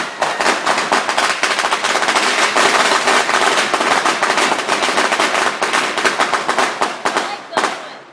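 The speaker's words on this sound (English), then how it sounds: "Red and green fireworks exploding all over the sky" Fourth of July fireworks crackle and pop in a dense, continuous barrage of rapid bursts, loud and close, with voices faintly mixed in.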